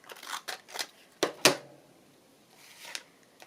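Scissors snip out a piece of paper from a papercraft ephemera kit, a few soft crinkling cuts followed by two sharper, louder snips close by, then quieter rustling.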